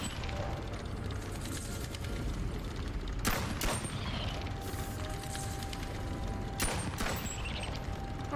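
Rapid gunfire in the BONELAB virtual reality game, a few sharp shots standing out over a constant loud background of game noise.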